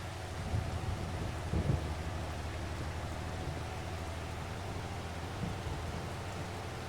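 Steady rain falls in the Farming Simulator video game, a soft even hiss with a few faint low rumbles of distant thunder, and no talking.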